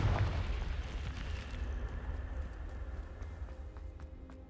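A Confringo fire spell bursts in Hogwarts Legacy, a loud boom at the start that rolls into a long, fading rumble, with faint crackles and small pops trailing off behind it.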